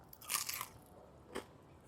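Crisp crunching bites into a fried Ilocos empanada, a dense crackly burst followed by a second sharp crunch, close up and quiet with no talk.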